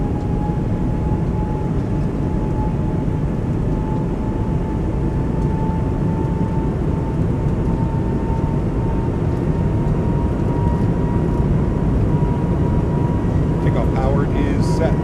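Airbus A220 jet engines in a flight simulator game spool up toward takeoff power, a loud steady roar with a sustained whine building over about fifteen seconds, with some talk over it.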